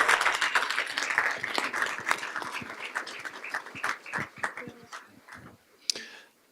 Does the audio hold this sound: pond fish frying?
no